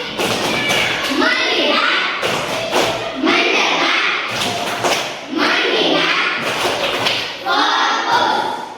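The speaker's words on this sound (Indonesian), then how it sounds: "Tepuk fokus." Children in a classroom perform a rhythmic clap routine with chanted voices, a few close, loud bursts of clapping and thumping repeated in patterned phrases across the whole stretch.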